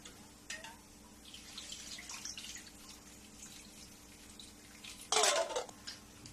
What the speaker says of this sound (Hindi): इसको भी मैं 3 पानी से धोऊंगी।